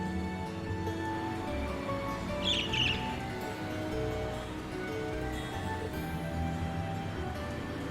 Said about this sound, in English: A bird?